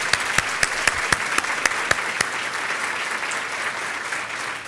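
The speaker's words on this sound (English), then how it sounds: "let's give them a round of applause." Audience applause fills a ladies' luncheon, with steady dense clapping and a few sharp louder claps standing out early on, sustained throughout at moderate volume.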